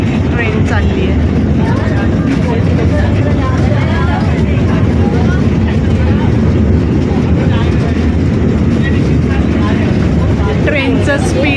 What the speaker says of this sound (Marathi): नेरळ पायथ्याला ट्रेन चालली आहे.